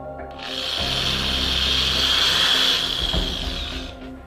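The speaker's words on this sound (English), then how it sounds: "this is a 9/64 drill bit. So the trick to doing this is go like that" A power drill with a 9/64 bit whirs up to speed and bores through material for a few seconds, then winds down, close and loud.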